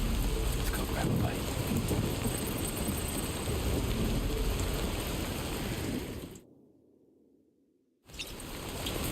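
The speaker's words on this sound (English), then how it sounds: "No end to this rain." Heavy rain in a video game, a loud, steady, dense downpour that drops away almost to silence for a couple of seconds near the end before surging back.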